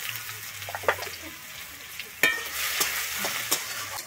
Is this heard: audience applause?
no